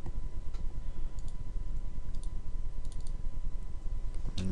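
Soft, steady key taps on a computer keyboard while a command is entered, close and clear, with a few sharper clicks near the end and no talking.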